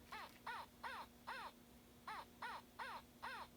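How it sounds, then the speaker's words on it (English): A spotted owl gives a run of eight sharp, barking calls at an even pace, fairly faint, over a low steady hum. "That's our friend the spotted owl."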